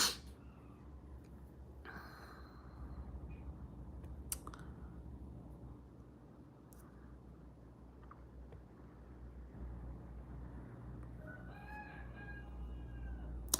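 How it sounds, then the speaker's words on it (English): Roosters kept by a farmer crow in the distance, one faint cock-a-doodle-doo rising near the end, over a low steady background rumble with scattered small clicks and taps. "Here are my roosters."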